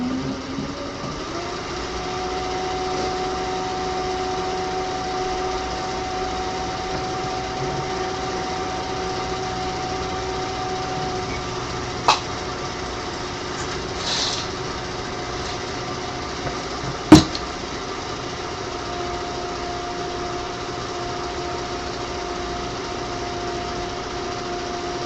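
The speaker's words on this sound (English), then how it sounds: "Just let me wind my bobbin and then I'll show you." A sewing machine winds a bobbin with a steady, even high-pitched motor whir that runs continuously, with a couple of faint clicks along the way.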